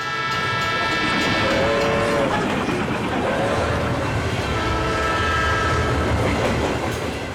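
Mumbai Jaipur Express train running with a steady, loud rumble of wheels and carriages, with faint horn-like tones layered over the near, continuous rolling noise.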